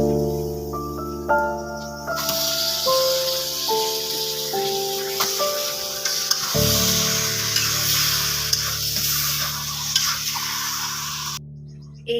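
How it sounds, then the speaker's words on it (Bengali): Beef sizzling with spiced onions in a pan over a clay stove, making a steady frying hiss. Melodic background music plays throughout, and the sizzle cuts off shortly before the end. "এইবার ভালোভাবে মাংসটাকে কষিয়ে নেওয়ার পালা।"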